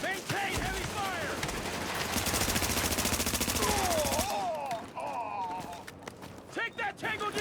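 Heavy automatic gunfire in a video game firefight, dense rapid bursts filling the first four seconds, then sparser shots and effects while a voice talks over the action.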